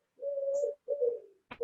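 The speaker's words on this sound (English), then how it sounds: "I have a pigeon walking on the roof, so you can hear that noise." A pigeon on a roof gives soft, hollow coos in two drawn-out phrases, close and clear in a quiet room, followed by a brief flutter or tap.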